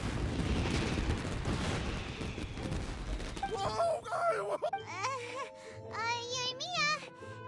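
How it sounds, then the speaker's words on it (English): Fireworks burst in Genshin Impact as a dense, rumbling crackle of explosions for the first few seconds, then give way to bright musical tones and voices. "this is turning into a bit of a fireworks display"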